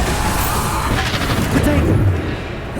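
Bombarda and Depulso spell blasts from the Hogwarts Legacy video game, a dense run of booming bursts and cracking impacts overlapping in quick succession, loud and close, with combat noise mixed through.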